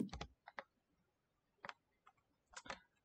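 Keystrokes on a computer keyboard while coding in JavaScript, heard as quiet clustered clicks in a few short bursts with gaps between, close and faint, no talking.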